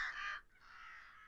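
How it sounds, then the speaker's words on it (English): Crows caw and shriek harshly at the edge of a field, a loud burst of overlapping calls followed after a brief gap by a steadier, slightly softer stretch of cawing, with no voices. "she saw a mass of crows, shrieking and fighting and feeding on something."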